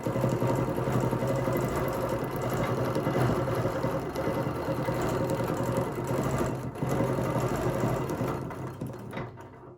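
Sewing machine stitching a quilt, a steady continuous mechanical whir with rapid needle rhythm running loud and close for nearly the whole stretch before easing off at the end.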